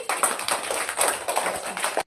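Children clapping hands together in a pre-primary classroom during a letter-learning game, a busy patter of many small claps continuing steadily for about two seconds, fairly close and loud.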